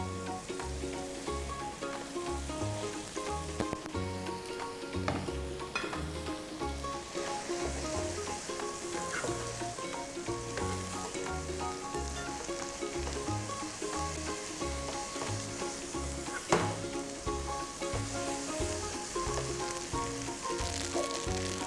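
Glass noodles stir-fried with egg in a hot pan, a steady loud sizzle with rhythmic scraping and stirring strokes of the spatula throughout, no voices.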